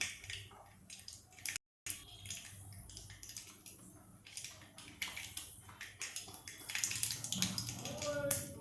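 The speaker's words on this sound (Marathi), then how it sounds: "मोहरी फुटायला आलेली आहे" Mustard seeds crackle and pop in hot oil as a tempering for Khandeshi dal, a dense scatter of small sharp pops over a steady sizzle, fairly close, getting busier toward the end.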